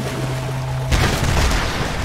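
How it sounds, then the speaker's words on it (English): An explosion goes off in Tomb Raider (2013) at a mountain temple, a sudden heavy boom breaking through a steady humming background and leaving a low, rumbling tail. "this is going to trigger an explosion"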